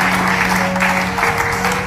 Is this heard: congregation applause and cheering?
yes